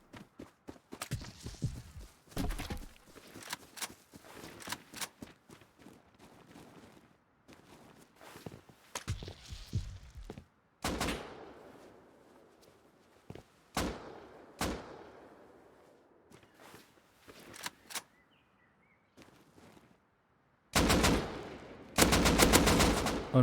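Short gunfire bursts in the survival game Rust, loud sharp volleys separated by quieter stretches with footsteps, ending in heavier sustained firing.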